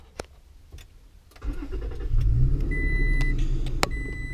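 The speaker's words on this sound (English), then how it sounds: "I'll go ahead and plug it in and start the truck up here." A 2017 Toyota Tacoma pickup engine cranks and catches, then settles into a steady close idle, with a few sharp clicks before and short electronic beeps during the run.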